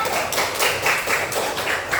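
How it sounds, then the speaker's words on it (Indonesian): A small group of students in a classroom claps together in a brief burst of applause for one group, with irregular, fairly close hand claps. "Kasih tepuk tangan dong buat kelompok 1."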